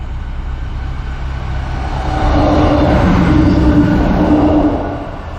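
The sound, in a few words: train passing overhead while boat goes under bridge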